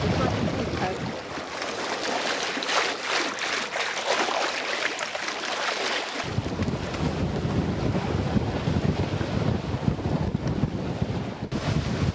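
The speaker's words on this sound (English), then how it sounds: "we've just picked a bit of wind up" Wind gusting over a sailing boat at sea, buffeting the microphone with a loud, rough roar, while waves and water rush along the hull beneath it throughout.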